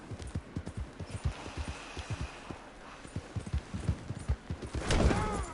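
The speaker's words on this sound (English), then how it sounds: "You gotta pay attention when you're riding a horse." Steady clip-clop of horse hooves trotting in a quick, even rhythm, with a burst of louder clattering and a metallic ring near the end.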